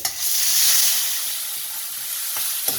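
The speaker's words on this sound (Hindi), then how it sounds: "उधर मैंने ऑयल गर्म रखा हुआ है कढ़ाई में, और इसको हमने फ्राई करना है।" Chicken fries in hot oil in a kadhai over high heat, a loud, bright, continuous sizzle close up, with a couple of sharp spits and crackles near the end.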